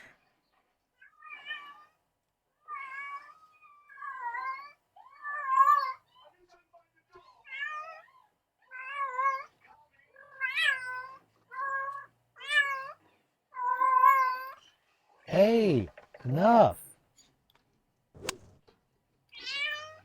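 A cat in heat gives a long series of loud, drawn-out yowling meows, one after another with short gaps, close to the microphone. Near the end a person briefly speaks.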